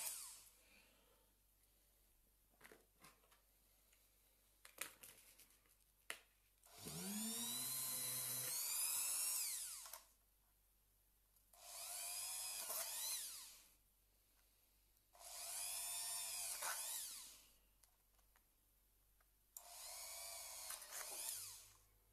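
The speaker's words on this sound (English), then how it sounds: "Better to drill all the holes so we can use any of these if we want to." A power drill bores holes in parts for a cheap RC crawler build, running in four separate bursts of a few seconds each with quiet pauses between, close and loud.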